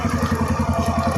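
A new motorcycle rumbles nearby with a steady, pulsing low engine beat and a light mechanical clatter, loud and close for just over a second.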